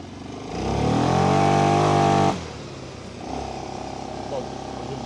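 Engine of a Segway Snarler 600 quad revving up nearby in reverse, a rising motor drone that cuts off suddenly, then settles to a lower idle with a voice speaking over it.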